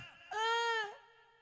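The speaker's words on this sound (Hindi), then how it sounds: "आपको मेरी ये रोने की आवाज सुनाई दे रही है" A performer in a Rajasthani folk-tale stage show of Pingla and Bharthari lets out one sustained, tonal wail of crying, rising abruptly, holding for about half a second and then trailing off into quiet.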